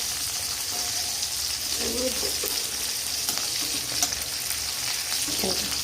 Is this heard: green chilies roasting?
yes